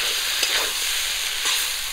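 Mustard paste goes into a hot pan of frying spices, ginger, garlic, cumin and greens stems: a steady oily sizzle with a couple of soft stirring scrapes, close and continuous.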